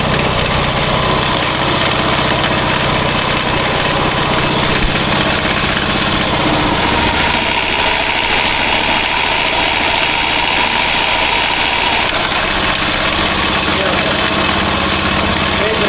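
A Husqvarna TS138 lawn tractor engine idles steadily and close, with a constant mechanical drone and vibration that holds unchanged throughout.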